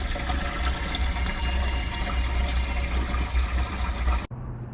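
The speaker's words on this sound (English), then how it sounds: "Just filling it up with regular water from the water hose right now" Water from a garden hose pours steadily into a part of a supercharged project car, a continuous loud rushing and splashing that cuts off abruptly near the end.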